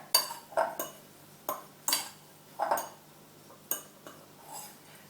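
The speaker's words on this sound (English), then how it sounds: "Mix those all together" Dill, chives and cottage cheese being mixed together in a bowl, giving a series of about eight sharp clinks and scrapes of a utensil against the dish, moderately close with short pauses between strokes.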